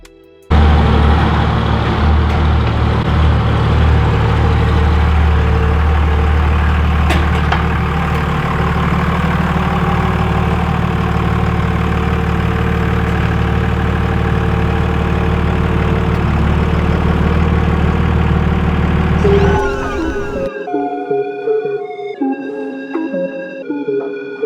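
An old Cummins diesel truck engine idles close by, a steady deep rumble that holds for about twenty seconds and then cuts off abruptly, after which a few faint tones follow.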